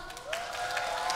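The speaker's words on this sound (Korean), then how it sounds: "멤버 여러분을 뜨거운 박수로 맞아주시기 바랍니다" An audience applauds steadily as TWS take the stage at their K-pop debut showcase, a dense wash of clapping from a crowd, with a faint tone sliding underneath.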